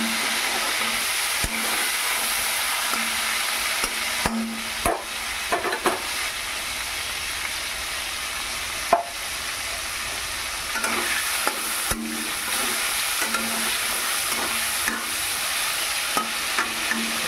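Tomatoes fry in hot oil in a wok with nigella seeds and panch phoron for a chhanar kofta curry: a steady, close sizzle runs throughout, broken by occasional clacks of the spatula stirring, with no talking.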